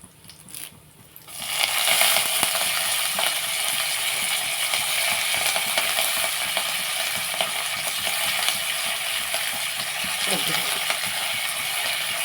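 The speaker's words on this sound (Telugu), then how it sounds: "ఇదిగోండి వేయిపోతుంది కదా ఇందులో మనం కొంచెం కరివేపాకు కూడా" Curry leaves frying in oil for a restaurant-style idli chutney, a loud, dense, steady hiss and crackle that swells in after a quiet opening and stays constant, with a voice talking faintly.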